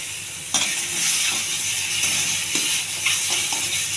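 An egg drops into hot oil in a pan and fries, giving a steady close sizzle and hiss with a few soft clinks and bursts, no voices.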